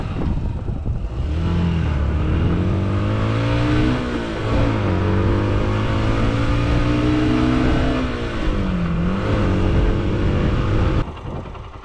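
A Yamaha YBR 125 motorcycle engine runs close by, revving up and down in smooth rising and falling waves, then cuts off near the end.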